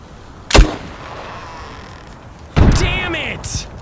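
A grenade launcher fires in a video game: two loud, sharp booming shots about two seconds apart, the second followed by brief ringing debris, over a quiet background.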